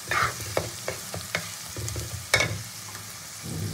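Onions fry in a pan for chicken do pyaza: a soft continuous sizzle broken by repeated spatula strokes and clicks, close and steady, without any voices.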